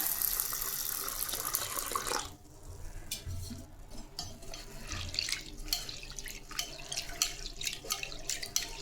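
Tap water runs steadily into a sink with occasional clinks and stirring as toor dal lentils are rinsed, with a brief pause partway through.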